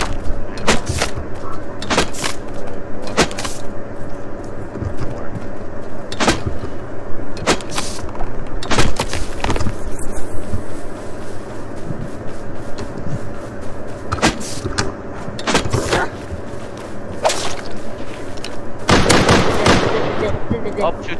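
Semi-automatic rifle fire in the survival game Rust: sharp, loud single shots at irregular intervals with brief gaps, repeated through the stretch, over a constant low game ambience and occasional player chatter.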